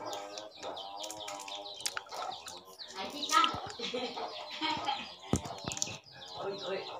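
A chicken clucks and calls close by, mixed with busy overlapping chatter and other bird sounds.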